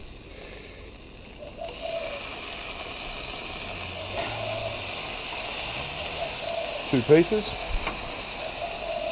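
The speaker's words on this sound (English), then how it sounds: "And the pineapple frying in butter make it really nice and very tasty." Pineapple pieces frying in butter in a pan give a steady, soft sizzle throughout, with brief speech and a few louder clatters of a utensil near the end.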